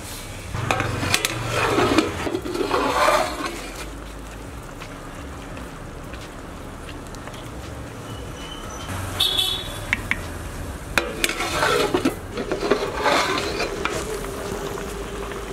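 Chettinad kuzhambu curry with yogurt and turmeric marinade bubbling in a pot, a steady sizzling, crackling boil with louder bursts as a lid is handled, close and alone without talk.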